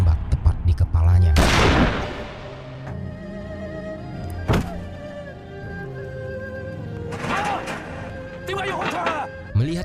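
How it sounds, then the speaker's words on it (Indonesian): Gunshots in a film scene set during the Japanese occupation in an Ip Man story, with a heavy sharp crack early on and another single shot a few seconds later, heard under steady narration in Indonesian. "tiba-tiba ia langsung ditembak tepat di kepalanya"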